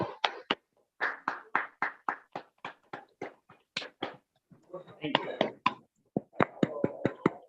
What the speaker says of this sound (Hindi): एक बार ये दोनों प्रोडक्ट के लिए मैं चाहूंगा दिलदार जानदार जबरदस्त ताली बजा दीजिए